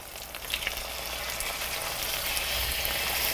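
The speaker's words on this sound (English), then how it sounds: "take my turkey and just put it right down in that pan" Turkey cutlets sizzle in a hot pan, a steady, close frying hiss with fine crackles that holds evenly throughout, with no voices.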